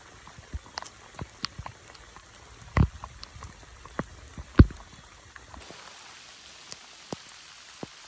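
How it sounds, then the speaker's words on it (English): Scattered raindrops tapping a surface at a quiet, steady level, with a few sharper, louder drips standing out now and then. "Clearly it's a very rainy day."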